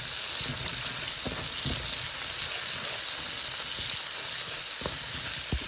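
Onions and green chilies sautéing in a pan, a steady close sizzle and hiss with faint scrapes of stirring, no talking over it.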